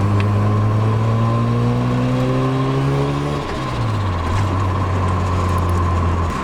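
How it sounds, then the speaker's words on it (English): A Mazda RX7 on a cold winter day holds a loud, steady engine drone, then the note drops away with a brief fluttering turbo chatter before settling into a lower, even hum. "It's the little turbo flutter."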